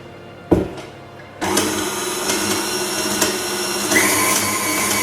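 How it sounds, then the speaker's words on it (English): An egg whisked into cinnamon roll batter: a sharp clunk, then a loud, steady whirring and rattling churn close by that runs without a break to the end. "And the egg. And just whisk that through."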